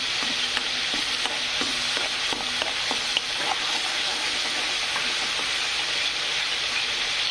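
Spices roast in a hot pan for egg curry with a dense, continuous sizzle and the occasional light scrape of stirring, close and even throughout, with no voices.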